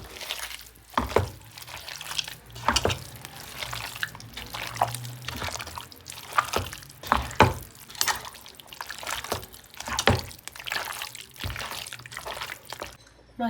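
Beef is kneaded by hand with spices, dark soy sauce and mustard oil, making close, wet squelches and slaps that come in an irregular rhythm, with brief quiet gaps between them.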